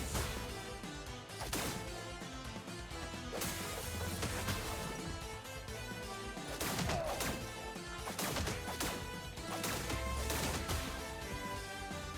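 Hellfire blasters from the video game Marvel Cosmic Invasion firing in a dense, sustained barrage of rapid crackling shots and crashes, loud and continuous, layered over game music with no talk.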